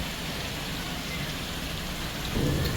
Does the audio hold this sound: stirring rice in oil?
no